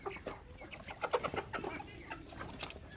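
Broiler chickens cluck softly in quick, irregular bursts, faint and close, with a steady background hum.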